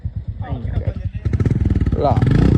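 A motorcycle engine putters close by and revs up, its pulsing exhaust growing louder and faster, with a voice speaking over it.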